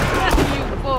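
Gunfire in the video game Borderlands: The Pre-Sequel, a loud, close, rapid burst of shots lasting about a second over dense game sound.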